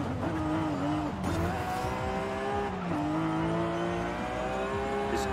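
A Nissan Skyline GT-R R34 in Forza Horizon 5 revs hard and steadily, its engine note climbing and dipping through gear changes with faint tire squeal, loud and continuous with no talking.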